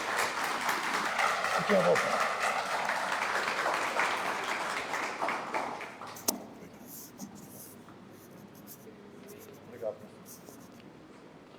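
An audience at an informal spiritist gathering claps through the first six seconds, then the clapping fades out into quiet room noise, with a few scattered knocks and a brief spoken phrase afterward.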